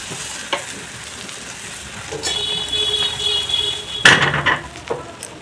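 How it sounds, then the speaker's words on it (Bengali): Ground cumin, coriander, Kashmiri chilli and garam masala sizzle and fry in a pan for paneer masala, a steady close hiss broken by a few scraping stirs and a sharp clatter near the end. "সব কিছু মশলা কম আছে ভালো করে কষিয়ে নেব।"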